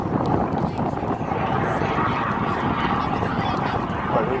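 A military jet roars past at the Southport Air Show 2018, a loud, sustained engine rush with wind buffeting, while a commentator talks over it.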